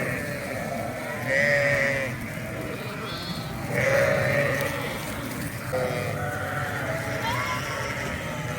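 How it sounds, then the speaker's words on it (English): Sheep and crossbred lambs on a South Australian farm bleat repeatedly, several calls rising in turn from nearby, while someone talks over the flock. "the sheep and those crossbred lambs,"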